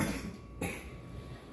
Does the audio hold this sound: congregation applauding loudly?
no